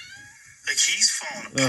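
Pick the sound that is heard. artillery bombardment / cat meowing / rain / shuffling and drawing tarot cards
cat meowing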